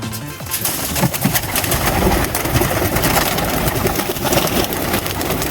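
Pigeons coo repeatedly amid a dense, noisy background with a steady engine-like hum running throughout.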